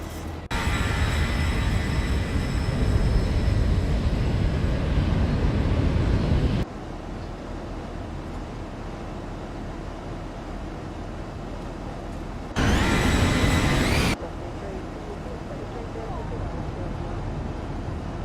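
Qantas airliner climbing out of Sydney in the X-Plane 11 flight simulator, a loud steady engine roar with an abrupt drop in level midway and a brief louder burst later.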